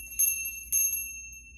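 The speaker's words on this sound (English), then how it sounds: "I'm going to use my bell to clean the sound." A small handbell used to cleanse a room rings in two quick shakes, each a bright, shimmering burst. The metallic tones sustain and slowly fade in the quiet space, close and clear.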